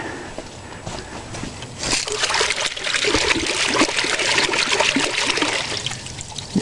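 Radishes rinsed under running tap water, a steady close splashing and trickling stream that swells after the first couple of seconds and stays loud and continuous to the end.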